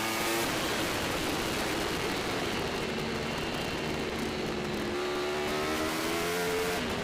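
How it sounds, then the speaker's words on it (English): Formula Pacific race cars running side by side over a hilltop, their engines a loud, continuous roar with shifting pitch and no breaks for the whole stretch. "over the top of the hill, they're side by side, and it looks like Chris Siglin's in front"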